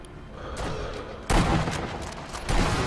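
Gunfire in the video game Sniper Elite V2: a dense, continuous barrage of shots with two sharp louder bursts partway through, loud and close throughout with no speech.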